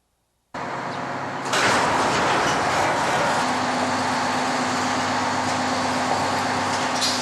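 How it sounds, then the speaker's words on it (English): Large doors of the downtown Central Fire Station rolling open, a broad steady mechanical rumble that starts abruptly and runs continuously, loud and close, with a faint hum underneath. "The doors open at the downtown Central Fire Station to reveal the valuable equipment necessary to fight a fire."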